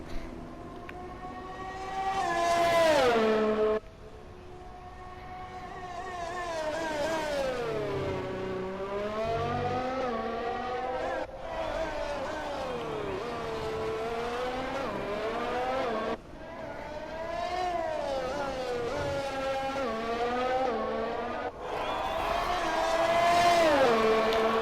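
Formula 1 cars in the F1 2020 racing game scream around the Singapore Grand Prix circuit, their high engine whine climbing and falling through gear changes as several cars pass, loud and continuous with no talk.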